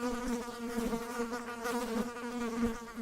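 Honeybees drone steadily around a hive, a dense, continuous close-up buzz with a wavering pitch and no voices.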